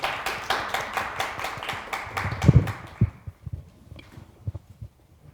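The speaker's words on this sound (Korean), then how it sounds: "다시 한번 큰 박수 부탁드리겠습니다" Audience applause at a Korean church youth centre orientation, a run of loud rhythmic clapping that fades out after about two seconds, followed by scattered thumps and quiet room noise.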